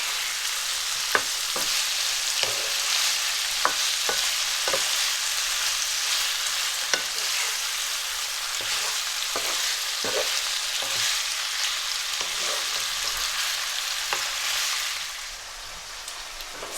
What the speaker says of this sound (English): So the chicken has been frying for 3 minutes or so